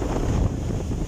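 Loud wind on Tayak Hill in Tanay, Rizal rushes and roars against the microphone in a short, steady blast.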